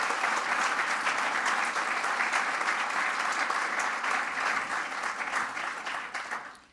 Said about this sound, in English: I'd like to invite the public to give them a round of applause for their service